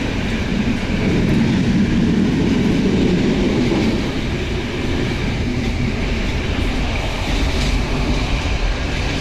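A communist-era passenger train from Sofia to Varna, Bulgaria, rolls steadily along the rails with a continuous rumbling roar and faint clatter, heard from inside, no talking.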